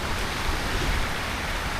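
Heavy first monsoon rain pours down in Mumbai, a dense, loud, unbroken roar of falling water with no voices heard.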